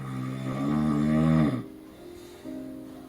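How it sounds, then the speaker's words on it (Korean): A hospital roommate snores loudly in a shared ward: one long, droning, rumbling snore, then a quieter, lower drone that continues alone. "다시 시작되는 병실을 뒤흔드는 코골이 소리"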